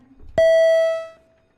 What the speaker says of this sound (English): can we ring the bells, Madam Clerk?